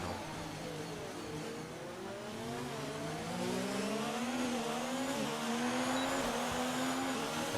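Race cars in an online sim racing league round at the Austria circuit. A continuous engine whine climbs and falls in pitch as the cars accelerate and shift, sustained and fairly close, with no voices.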